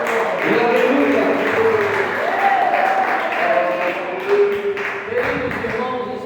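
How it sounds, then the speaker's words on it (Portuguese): A church congregation claps in praise, steady clapping under tonal voices that sound like cheering or singing throughout. "glorifica o Rei da Glória com bastante palmas e aleluia."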